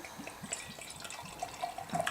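Fuller's ESB bitter beer poured into a glass gives a quiet, steady liquid trickle with light splashing and faint fizz, heard alone with no voices.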